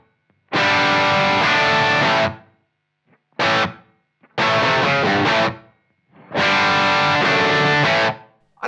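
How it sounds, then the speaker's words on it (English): Heavily distorted electric guitar through a Marshall JMP-1 preamp plays sustained chords in separate bursts with short gaps between, the tails ringing out with a roomy reverb. "next I'm going to add a little bit of a room style reverb."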